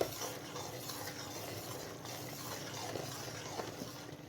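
A spoon stirs ground oats and barley powder into a pot of thick Hyderabadi mutton harees, giving soft, steady scraping and gentle mixing sounds, faint and close, with a light simmering bubble underneath and no speech.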